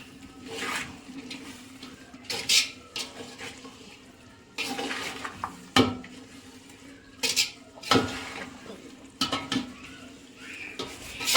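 Vegetables for a veg biryani are stirred in a pot over a wood-fired stove, with repeated metallic scrapes and clanks of the spoon against the pot over a low, steady sizzle.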